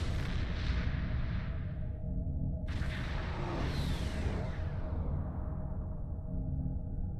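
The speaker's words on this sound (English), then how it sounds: "My plasma cannons on the ship, nice." Booming blasts of starship plasma cannons firing in a space video game, heavy rumbling shots with whooshing tails over a continuous loud engine drone.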